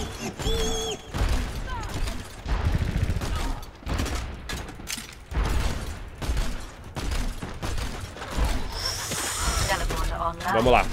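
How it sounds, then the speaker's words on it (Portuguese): Rapid gunfire bursts from Tracer in the Overwatch video game, two quick volleys among other game effects and explosions, with someone talking excitedly over the action. "agora descarregou 2 rajadas de tiro em mim aí"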